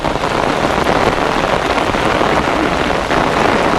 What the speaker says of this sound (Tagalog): Lumakas po yung ulan.